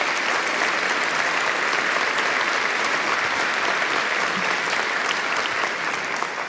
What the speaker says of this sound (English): You know, I just say that so y'all will clap.